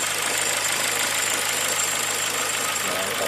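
A Ford Fiesta's Sigma engine idles steadily after a new timing belt kit and valve cover, a smooth continuous hum with no audible knock, close and even for the whole stretch.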